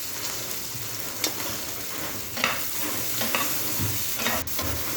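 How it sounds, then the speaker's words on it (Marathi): Curry leaves and finely chopped onion frying in oil in a pan for karela bhaji, a continuous close sizzle with occasional scraping stirs of a spatula. "कढीपत्त्याची पानं टाकायची आहे आणि छान फ्राय करून घ्यायची बारीक चिरलेला एक मध्यम मध्यम आकाराचा कांदा टाकलेला आहे"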